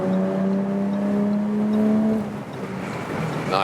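Jaguar F-Type accelerating hard in third gear while overtaking, a loud steady engine drone with rising harmonics that climbs for about two seconds, then eases before a brief higher whine at the end.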